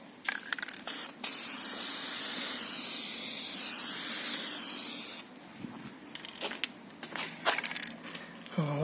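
A spray can puts a final coat on a car headlight outdoors in a long continuous hiss of about four seconds, framed by short spray bursts and handling clicks before and after.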